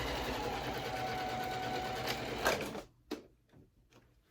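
A domestic sewing machine stitches a wallet in a steady, moderately quiet run for nearly three seconds, then stops, followed by a few faint clicks and handling sounds.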